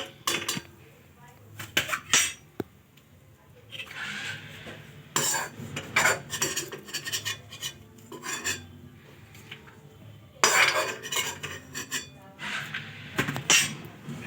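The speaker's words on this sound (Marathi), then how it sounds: "वाळलं खोबरं, याला आपण असं भाजून घेऊ." Dried coconut roasting in a pan for a flaxseed and sesame chutney, with repeated close metallic scraping and clinking of a spoon against the pan in short bursts and a faint sizzle underneath.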